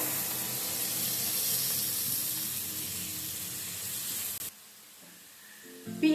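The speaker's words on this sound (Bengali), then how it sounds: "পেঁয়াজটাকে গোল্ডেন ব্রাউন করে একটু ভেজে নিতে হবে।" Onions frying in a pan toward golden brown make a steady bright sizzle and hiss that runs close and even for several seconds, then cuts off abruptly to quiet.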